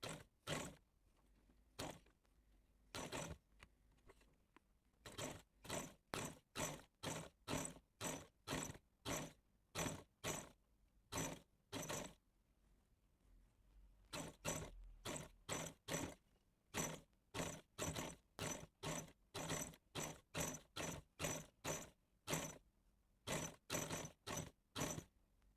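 A sewing machine stitching a neck design on a garment, running in many short, regular bursts with brief pauses between them, fairly quiet and close with no talking.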